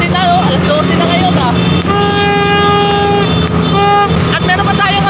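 Loud car and truck horns honk and blare continuously, overlapping in long sustained toots amid a noisy street crowd during a New Year countdown at midnight welcoming 2025.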